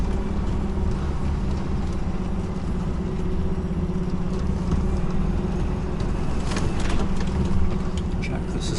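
A car engine labours steadily while driving up a ramp onto a trailer, a low continuous drone with faint mechanical clunks and a brief rise in effort near the end.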